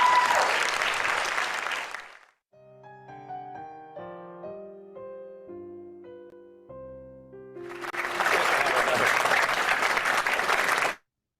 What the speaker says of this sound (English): A big round of applause for Jeff